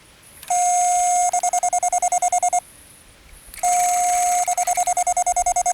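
JRC Radar CX carp fishing bite alarm receiver sounding two bursts of loud electronic tone, each a steady beep that breaks into rapid pulsing bleeps, with a pause between them.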